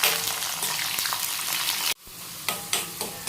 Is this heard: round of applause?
no